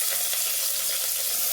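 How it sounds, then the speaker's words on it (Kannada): Onion and curry leaves hiss and sizzle in hot oil for a sambar tempering, a steady close crackling spit with no talk. "ಸಾಂಬಾರು ಸ್ವಲ್ಪ ಒಗ್ಗರಣೆ ಮಾಡ್ಕೊಳ್ಳೋಣ"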